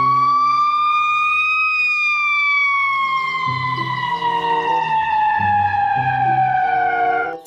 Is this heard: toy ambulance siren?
yes